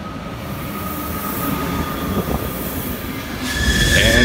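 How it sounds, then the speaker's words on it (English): Train pulling into an Italian railway station, a steady loud rumble of wheels on track with squealing brakes building toward the end, close by with no talking. "but I think my train is coming over."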